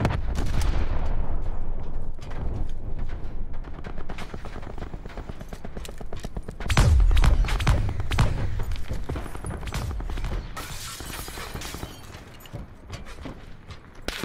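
Gunfire rings out in the Call of Duty Blackout battle royale game, with repeated sharp shots and clusters of rapid bursts over several seconds and a heavier blast midway, set against ambient game noise.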